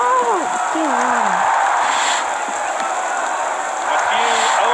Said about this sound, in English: A few olays from the crowd here.